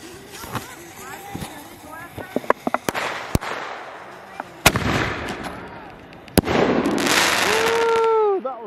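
Fourth of July fireworks going off close by: sharp bangs and crackling pops scattered through the clip, then a long whistling, screaming rocket near the end, with excited voices talking and shouting throughout.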